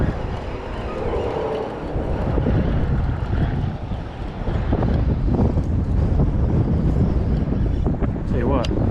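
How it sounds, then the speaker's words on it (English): Wind blowing across the microphone beside a river during a March fishing outing, a steady loud rumbling buffet that swells and gusts throughout, with a person speaking over it. "Ooh, there's that wind."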